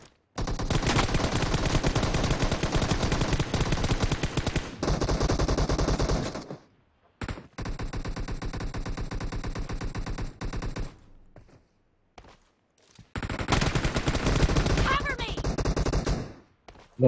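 Sustained automatic gunfire from the battle-royale game PUBG, loud and dense in long bursts broken by short pauses, with voices faintly mixed in.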